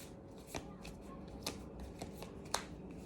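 Tarot cards are shuffled and drawn in a few quick, faint riffling bursts with soft snaps, close by in a quiet room with no talking.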